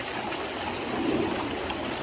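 A tiny mountain creek in western North Carolina flows and trickles steadily, a continuous close wash of running water with no voices.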